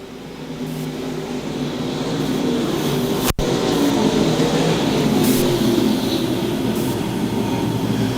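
Stock cars power off turn 4 of an oval, a pack of engines blending into one continuous, loud roar with a brief dropout partway through.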